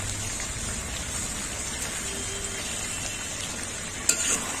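Chicken and potatoes stirred and frying in a pan for a mocha chicken dish, a steady close sizzle with a soft scrape or clink near the end.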